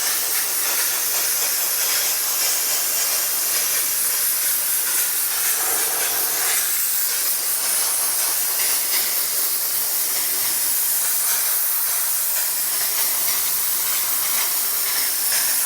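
A steam cleaner blasts 300-degree steam onto car leather in a steady, loud, continuous hiss with no talking.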